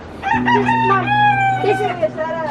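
A chicken about to be butchered gives a loud, close, drawn-out crowing call with harmonic tones, followed by a short squawk.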